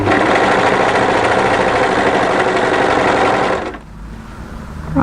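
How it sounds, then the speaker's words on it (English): An overlocker runs steadily at high speed stitching a seam on a pleated maxi wrap dress, a loud continuous whirring that stops near the end, leaving quiet handling noise. "when you're ready, try and overlock that"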